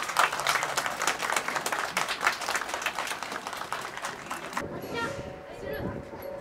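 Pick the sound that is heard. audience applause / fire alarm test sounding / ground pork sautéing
audience applause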